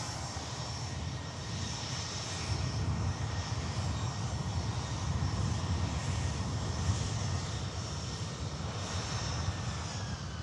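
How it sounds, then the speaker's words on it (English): An airliner with Rolls-Royce Trent 700 engines, a modified fuselage and an enlarged tail at Manchester Airport gives a steady, fairly distant engine roar that holds throughout. "It's got the Rolls-Royce Trans 700 engines on there, but it's got a modified fuselage and a pretty wacky larger tail as well."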